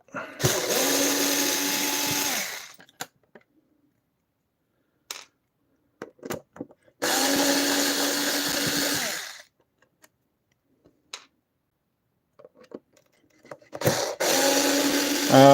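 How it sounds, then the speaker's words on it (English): A cordless drill removing bolts whirs in three separate bursts of a few seconds each, separated by quiet pauses with small clicks and taps of handling. "So I'm using a cordless drill. You might hear that for a little."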